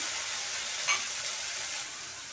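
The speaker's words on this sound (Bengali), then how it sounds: "সেই পেঁয়াজ বাটাটা দিয়ে দিলাম" Onion paste sizzling in a hot pan for a kofta curry gravy, a steady close hissing fry with one brief sharp crackle partway through.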